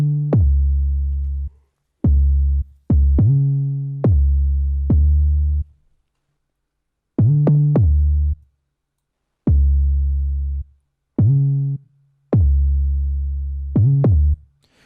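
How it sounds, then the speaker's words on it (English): Trap 808 bass line made in FL Studio, deep sustained notes that fade out and glide upward in pitch between hits, loud and clean in a sparse repeating pattern with gaps of silence. "It's an 808, and it sounds like this."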